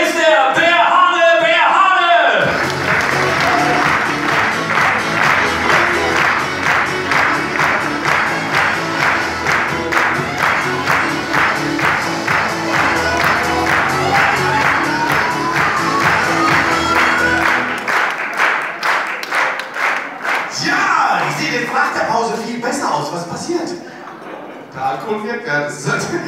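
A comedy club audience in Delmenhorst claps loudly and steadily to open the second half of a stand-up show, with cheers mixed in. The dense applause holds for about fifteen seconds, then thins out into scattered claps as talk takes over.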